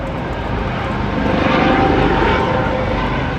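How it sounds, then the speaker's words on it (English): Coast Guard helicopter working in the D.C. area passes overhead, a steady loud rotor and engine drone with broadband roar that swells slightly mid-pass and holds throughout. "It's the Coast Guard's helicopter working for DHS in the D.C. area, keeping the airspace clear"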